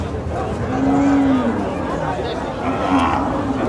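Native bull cattle stand at a busy livestock market, where a low, drawn-out moo rises over crowd chatter and talking nearby, followed by a shorter bovine call.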